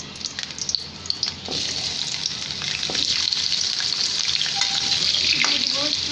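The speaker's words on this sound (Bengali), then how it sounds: "এখন আমি এই তেলেই আলুগুলো ভেজে নেব" Potatoes fry in hot oil that has just been used to crisp onions, giving a loud, close, steady sizzle with bubbling crackle that builds through the clip, and no voice over it.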